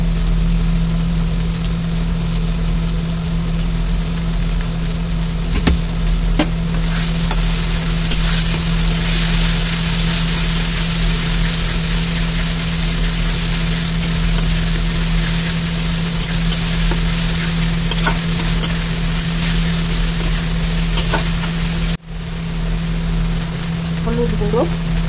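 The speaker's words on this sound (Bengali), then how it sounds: "দেখতে পাচ্ছি এখানে ভালোই ভাজা হচ্ছে।" Oil sizzles loudly and steadily in a pan as food fries, a dense continuous hiss close by with no pauses, and a person talks briefly over it.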